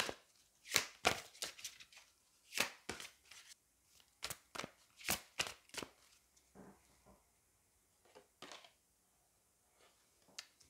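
Angel oracle cards being shuffled by hand, a series of quick crisp riffling bursts close up, some clustered and some spaced apart, fading to quiet rustles near the end, with no voices.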